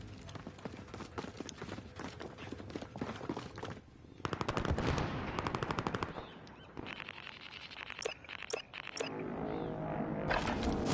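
Rapid machine gun bursts ring out in the Warzone Rebirth Island battle royale game, with repeated loud volleys and sharp single shots across the scene, some near and some farther off.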